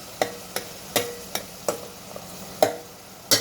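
Sliced onions stirred in a hot pan, with sharp scraping strokes of a spoon recurring at an uneven pace over a faint background sizzle, close and fairly quiet.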